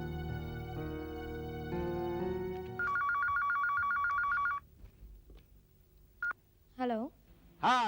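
Telephone keypad tones beep steadily as a number is dialed on a landline in a family drama scene, followed by a short ringing tone, then pauses and a couple of brief warbling rings.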